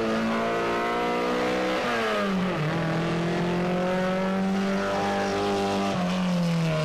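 A VAZ-2101 rally car races on a mountain course in the Sliven Balkan, its engine loud and close, howling through rising revs with gear changes and pitch drops.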